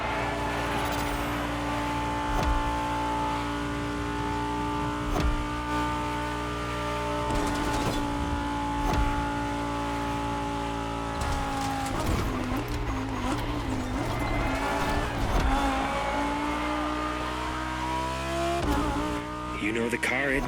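A customized Lamborghini Huracan Performante by Liberty Performance, built for an LBWK challenge in The Crew Motorfest, drones loudly and steadily, its engine pitch holding then shifting as it accelerates, with brief tire-squeal edges throughout.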